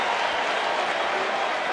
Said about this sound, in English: now the crowd's starting to get loud